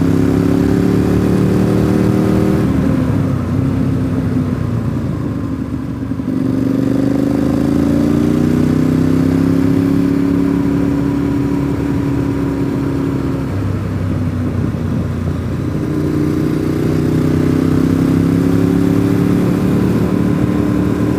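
A Harley motorcycle engine runs loud and close throughout, a steady deep rumble that rises and falls through a few gear changes as the bike rides along.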